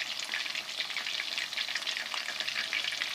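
Fish sizzles steadily in hot oil after being flipped, the flame turned up a little; a continuous crackling fry with dense popping spatter, close and even throughout, with no voices.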